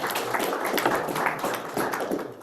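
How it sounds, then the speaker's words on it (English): A small audience at an investment session gives a round of applause, a moderate, uneven patter of hand claps continuing steadily throughout. "Round of applause."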